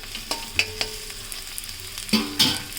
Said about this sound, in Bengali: ব্রোকলিটা দিয়ে আবার একটু নেড়েচেড়ে রান্না করে নিতে হবে।